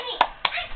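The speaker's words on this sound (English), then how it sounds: "Get her to clap or something." A small child claps hands twice, a light pair of slaps about a quarter-second apart, close and quiet in an otherwise calm room.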